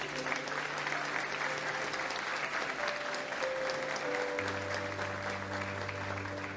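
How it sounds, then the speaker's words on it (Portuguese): Congregation in a church applauds a church worker, a broad, sustained patter of many clapping hands with a faint sustained musical tone underneath. "Vamos aplaudir a Deus pela vida dele."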